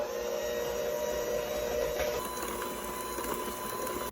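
An electric hand mixer hums and whirs steadily while mixing banana pudding batter, a continuous motorized drone with a slight change in pitch midway.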